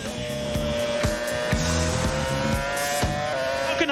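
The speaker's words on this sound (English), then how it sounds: "We're riding on board with Kimi Räikkönen, who's now been dropped down to third place" Formula 1 race car at Silverstone heard from onboard, its engine a loud, steady high-pitched whine with gear shifts and brief pitch drops, continuous across the whole stretch with no talk.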